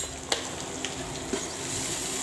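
Greens with coriander leaves frying in a pan as they are stirred, a steady soft sizzle with a few sharp scrapes of the spoon, close and fairly quiet.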